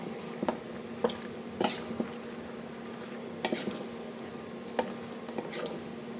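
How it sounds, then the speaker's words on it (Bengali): Chilli powder and ginger-garlic paste being stirred and fried in hot oil for a country chicken curry, with a low steady sizzle broken by scattered scraping and clinking stirs. "এভাবে তেলের পরে কষাতে থাকবো।"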